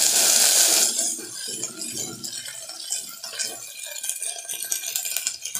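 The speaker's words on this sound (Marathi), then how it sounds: "आपण हा दरदरीत केलेला मिरच्याचा ठेचा आहे तो घालायचा आणि मस्त फिरवून घ्यायचा" Coarsely crushed green chili paste stirred into a pan of oil and cumin for a potato saar. A brief sizzle opens, then a spoon scrapes and rattles softly against the pan.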